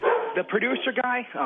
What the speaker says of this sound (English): sorry for the dog, man. I'll move.